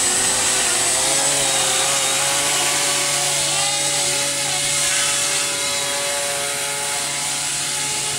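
A tilt rotor model's rear motor runs steadily and loudly, a continuous buzzing whine with a bright tonal hum that holds throughout without pause.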